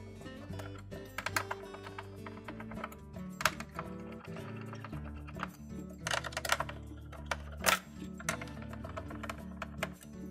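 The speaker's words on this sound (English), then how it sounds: "we'll begin by taking these screws off around the perimeter" Small Phillips head screws come out of a Whirlpool dryer door panel. The clip holds a series of close, irregular clicks and light metallic ticks over a faint steady hum, with no talking.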